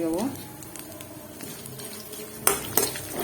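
Almonds and poppy seeds fry on low flame in a pan for kobbari modaka, a faint soft sizzle beneath sharp clinks of a spoon against the metal pan, with a voice speaking.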